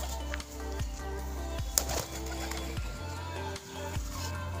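Domestic pigeons coo while being fed grain, a low, rolling, continuous murmur with soft rising and falling glides close by.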